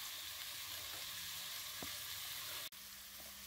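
Coconut milk heating in a pan while cooking Moroccan-style lamb shoulder: a soft, steady sizzle and gentle bubbling hiss throughout, faint and close, with one brief click near the end.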